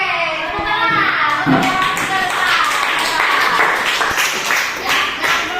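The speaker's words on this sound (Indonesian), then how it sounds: "Oke, tepuk tangan." A group claps, a burst of scattered applause with a few taps and thumps, while voices murmur underneath.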